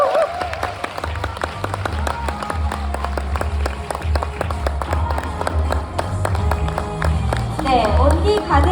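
A seated audience at a Korean talk event claps warmly in a sustained, dense round of applause, with a voice speaking over it near the end.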